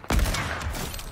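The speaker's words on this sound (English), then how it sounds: "Neko me puca, neko me stvarno puca." A sudden loud burst of video-game gunfire in Fortnite, one sharp report followed by a rattling spray that decays quickly, with no talk over it.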